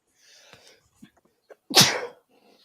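A single loud sneeze after a few quiet intakes of breath, close to the microphone, with nothing else around it.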